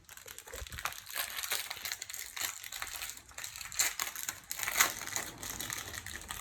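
Crinkly plastic crunching and snapping as a new BMW roundel badge is pressed into its mount on an M2, a steady close crackle with a few sharper clicks and no talk.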